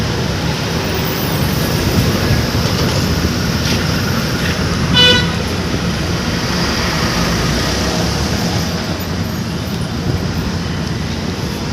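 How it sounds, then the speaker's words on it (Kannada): A truck approaches on a busy road, with a steady heavy roar of engines and traffic, a brief horn toot midway, and continuous loud road noise throughout. "ಇಲ್ಲಿ ನೋಡಿ ನಮ್ಮ ಗಾಡಿ ಬರ್ತದೆ"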